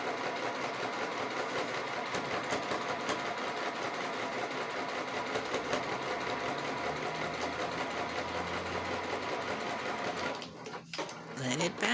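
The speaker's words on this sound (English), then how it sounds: "Taking it to the sewing machine, dropping my needle in position, and sewing away." A domestic sewing machine stitching a quarter-inch seam through fabric pieces, a fast, steady mechanical whirr with rapid needle ticking, close and even, slowing and stopping near the end.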